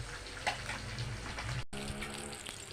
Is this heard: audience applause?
no